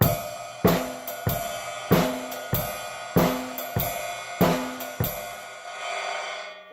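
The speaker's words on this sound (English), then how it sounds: "for this jazz pattern. It sounds like this." A swung jazz drum groove with a steady ride cymbal, light kick and snare accents repeating in a relaxed, even rhythm, played alone with no talking.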